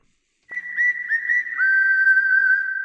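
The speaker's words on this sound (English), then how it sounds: "I know that's a strikeout whistle, but I just thought it would be a fun sound effect tonight." A sharp referee-style strikeout whistle sound effect from a baseball broadcast: a few quick chirps, then one long, steady, piercing tone, loud and alone against silence.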